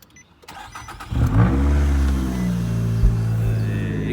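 A wrecked Nissan car engine cranks briefly with a few dry clicks, then catches after about a second and settles into a loud, steady idle with a small revving bump, all close up and without speech.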